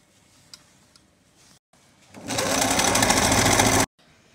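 A sewing machine stitches a long gown in one steady motor-driven run of about a second and a half, loud and continuous, after a quiet stretch with faint clicks, then stops abruptly.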